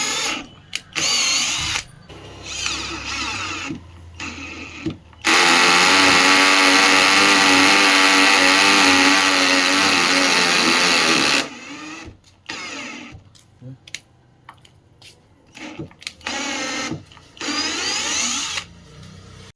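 A cordless battery drill drives 6 mm and 8 mm screws into wood, its steady loud whir running for about six seconds, framed by shorter bursts of motor spin and clicks before and after, close and with no voices.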